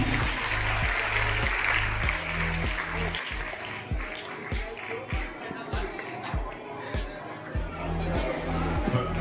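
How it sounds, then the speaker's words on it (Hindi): Audience at a charity mehndi and drawing competition event bursts into sustained applause, a dense wash of clapping with crowd chatter mixed in, steady and fairly loud throughout. "जोरदार तालियां आपकी."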